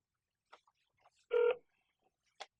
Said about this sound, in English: Let's call that number again.